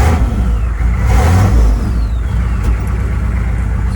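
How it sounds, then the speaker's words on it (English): A 6.5L turbo diesel engine, just fitted with a remanufactured injection pump, runs loud and close and swells in a short rev before settling back to a rough idle. "We'll let it warm up for a while and see what happens when we rev her up a little bit."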